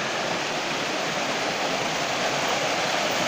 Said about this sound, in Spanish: Y aquí pues baja el agua bien.